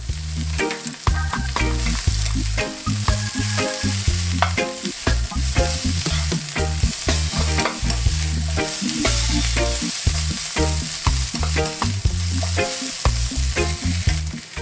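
Corned beef and cabbage, spiced with red pepper flakes, frying in a pan: a loud, continuous sizzle with frequent clattering stirs and scrapes of the utensil against the pan throughout. No one talks.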